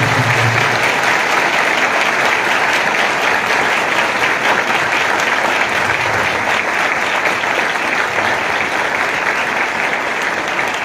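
Loud applause from a church congregation during a sermon fills the space, a thick, continuous roar of clapping that stays strong and even for about ten seconds with no voices breaking through.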